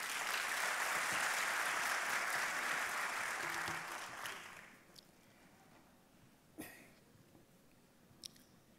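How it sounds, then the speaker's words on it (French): An audience at a French-language science week lecture applauds to welcome a speaker, dense, steady clapping filling the first four seconds before dying away into a few isolated claps. "je vous demande d'abord de l'applaudir pour l'encourager"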